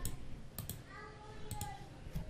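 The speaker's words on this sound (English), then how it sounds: "just type this word" Keys tapped on a computer keyboard while a command is typed into a web browser's settings page, a few quick clustered clicks spaced across a short, fairly quiet stretch.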